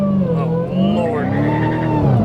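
A widebody Dodge Challenger Hellcat Redeye accelerates hard over a bump, its supercharged engine roaring loudly and steadily with rising pitch, while people speak excitedly over the noise.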